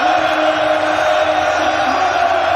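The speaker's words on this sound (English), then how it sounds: "The biggest cheer on the podium for the Norwegian" Stadium crowd cheering for the Norwegian Manchester City player on the podium at a league champions celebration, a dense, sustained roar of many voices with a steady tonal hum running through it.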